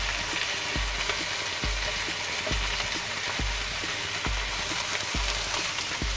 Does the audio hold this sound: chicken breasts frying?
yes